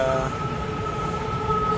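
A Bangkok BTS Skytrain rolls into the station with a loud, steady rumble and a sustained high metallic whine from the wheels, close by and continuous.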